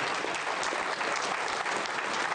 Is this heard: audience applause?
yes